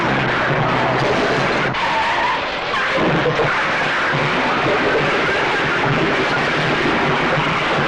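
A car brakes hard and skids in an Indian action film with Mithun Chakraborty, a loud, sustained tire screech that dominates the whole stretch with only a brief dip midway.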